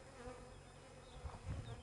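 Bees buzz faintly and steadily around the hives at a Carpathian apiary, a low continuous drone with a few louder passes near the end.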